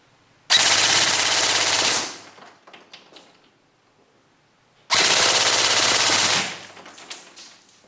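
A Ra-Tech Bolt B4A1 electric airsoft rifle fires two loud full-auto bursts of rapid buzzing shots, each about a second and a half long, separated by a quiet pause with faint mechanical clicks.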